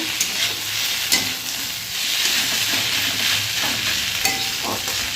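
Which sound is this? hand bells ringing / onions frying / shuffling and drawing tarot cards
onions frying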